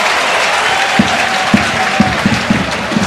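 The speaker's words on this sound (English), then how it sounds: "they are celebrating those moments, the home fans, and rightly so." Home fans in a football stadium applaud and cheer during a match, a dense, steady roar of crowd noise with soft thumping claps rising through it.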